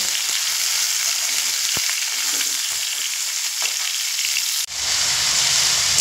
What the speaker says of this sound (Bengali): দেখুন 4 মিনিট মতো আমি লাউ হাই ফ্লেমে একটু ভেজে নিয়েছি